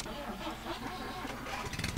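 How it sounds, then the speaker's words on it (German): A Trabant car engine starting in the driving game Jalopy, a dense, rough mechanical rumble that turns over and catches into a steady running sound, fairly faint and alone. "Motor starten."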